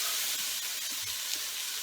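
Onions frying in a pan for scouse give a soft, steady sizzle and hiss, fairly quiet and continuous for a couple of seconds, with no voices over it.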